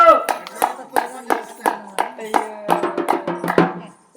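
Rhythmic clapping during an Oggu Katha folk storytelling performance, about a dozen sharp evenly spaced claps that grow busier toward the end, with voices talking and singing over them.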